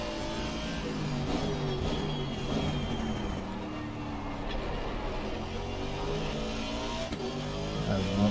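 In a racing video game practising at Misano, a race car engine drones steadily as the car moves to overtake, with occasional revs and gear shifts and the rasp of other cars close by. A voice comments faintly underneath.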